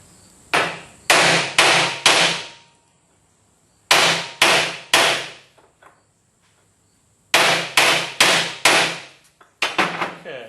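Loud, sharp hammer blows ring out in quick groups of three to five, driving a bearing in with a socket on a New Holland 630 baler during an overhaul, separated by short silent pauses.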